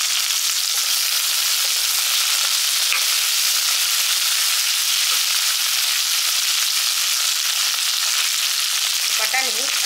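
Vegetables with mint and peas sauté in a hot pan, a loud, steady sizzle that carries on unbroken with no voices over it.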